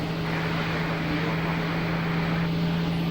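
An airliner taking off at Lisbon Airport, heard as a steady distant jet engine roar with a constant low hum, holding an even level throughout without talk.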